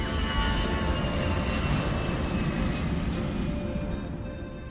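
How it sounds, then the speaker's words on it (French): An Airbus A320 airliner lifts off the runway at about 400 km/h, its engines a loud, steady broadband roar with a faint whine on top, easing slightly toward the end. "L'A320 est prêt pour entamer sa montée. Il quitte la piste à 400 km/h."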